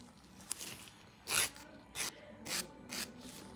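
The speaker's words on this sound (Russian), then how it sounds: "Видите, вы тогда движениями вниз пилите, и вот эта штучка, она хорошо уходит, не повреждая слайдер на поверхности." A nail file rasps across a manicure slider in several separate downward strokes, close and distinct, each a short gritty burst with brief pauses between, alone without talk.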